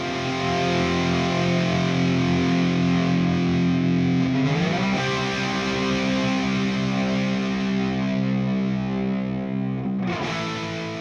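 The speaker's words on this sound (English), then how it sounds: "these two guitars are panned center, but if we listen to them and start to pan them apart" Two distorted electric guitar tracks play a sustained chord together, loud and thick, with the stereo spread shifting as they are panned apart in a mix; a brief pitch dip sounds midway and another near the end.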